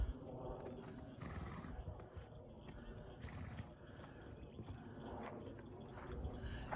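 Mares walk into their stalls in a barn with faint, irregular hoof clops and occasional snorts or whinnies, quiet and mixed with background rustle while someone talks.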